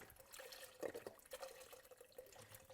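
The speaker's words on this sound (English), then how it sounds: "Pour in my chicken stock." A thin stream of chicken stock pours steadily into a pot for chicken noodle soup, faint and fairly even with a few slightly louder splashes.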